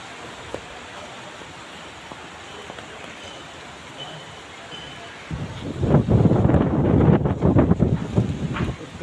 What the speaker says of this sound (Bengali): উত্তর দিকে বাতাস বইতেছে।